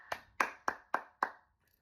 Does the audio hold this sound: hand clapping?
yes